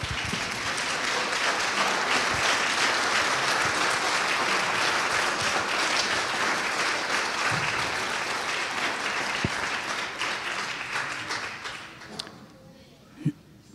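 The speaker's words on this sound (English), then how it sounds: "Let's give them a round of applause." A church congregation applauds recently baptized mothers at a Mother's Day service, a long, loud round of clapping that thins out toward the end, with a few scattered sounds after it.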